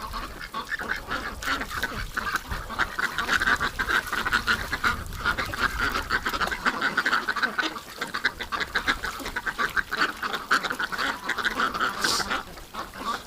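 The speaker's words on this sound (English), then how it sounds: "I love this time of year when the ducks are all horny." Ducks quack again and again through a winter duck outing, the calls repeating and overlapping at close range and fairly loud, with steady outdoor background noise and no talking.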